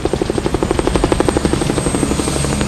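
An evacuation helicopter at a hurricane-struck hospital car park rooftop sounds loud and close with a fast, steady rotor thump, pulsing evenly throughout under a high engine whine.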